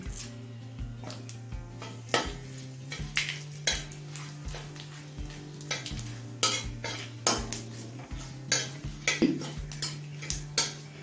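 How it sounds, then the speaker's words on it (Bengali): Dried red chili, bay leaves and radhuni frying in oil, a soft sizzle under repeated clinking and scraping of a spoon against the pan, steady and close. "রাঁধুনি তেজপাতা শুকনো লঙ্কাটা তিরিশ থেকে চল্লিশ সেকেন্ড ভেজে নিলাম"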